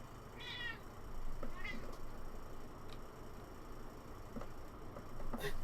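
A cat meows a couple of times during a dark vampire tabletop role-play scene, short high cries over a steady background hum with faint voices.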